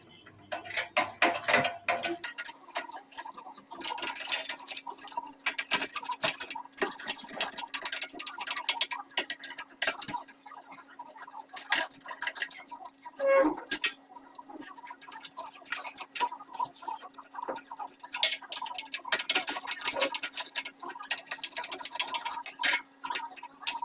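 Cross-head screws being backed out of a water heater's front cover by hand with a screwdriver: a close, steady series of small clicks and ticks with light metallic rattles, over a faint constant hum and no speech.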